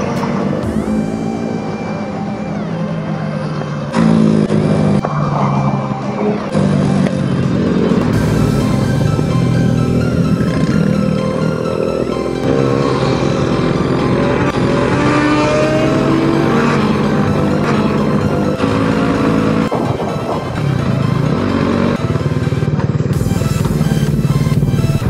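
A group of tuned motorcycles climbing the Passo San Marco mountain pass on a riders' rally, engines roaring near and loud with rising and falling revs and gear changes, sustained without a break.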